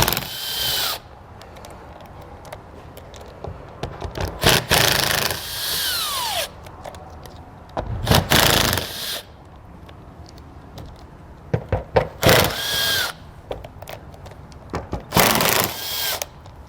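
A hand tool works plastic nut fasteners loose on a 2021 Chrysler during a trailer hitch installation, with bursts of clicking, whirring and ratcheting that come in several loud, close spells separated by pauses, and no talk.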